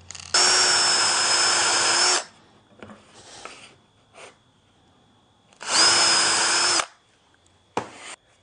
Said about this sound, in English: what I'm going to do is drill two holes to take these screws